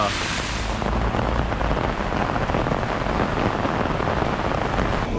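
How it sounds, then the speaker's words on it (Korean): Steady rain pours down in Malaysia, a dense continuous hiss filling the scene with no voices, heavier at the very start before settling into an even downpour. "비가 와가지고"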